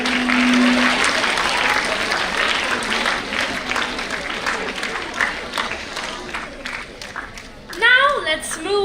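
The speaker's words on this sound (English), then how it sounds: "Can we have a round of applause" Steady crowd applause fills most of the clip, dense and sustained, before a voice begins speaking near the end.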